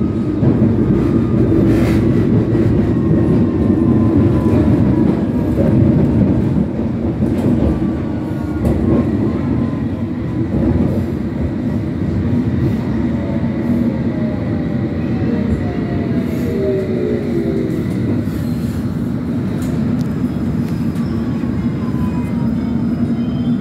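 A London Underground District line train at Wimbledon Park rumbles along at a steady loud roar, with squealing wheel tones and rattling carriages throughout.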